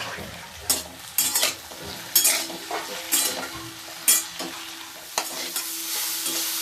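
Cauliflower and tomato being sautéed in a hot oil tempering, with a spatula scraping and stirring the pan in repeated strokes over a steady close sizzle, no voices.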